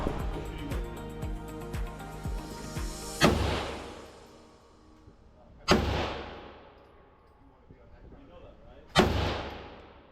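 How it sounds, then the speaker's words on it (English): Three loud, sharp rifle shots from a 20-inch Pioneer Arms AK at an outdoor shooting range, spaced a few seconds apart. Each crack is followed by a rolling echo, with some background noise beforehand. "So we're gonna be shooting the AK right now"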